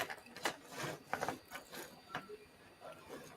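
A 3D printer's X and Y axes shuttle back and forth, giving faint, close mechanical whirring and ratcheting clicks in short irregular bursts.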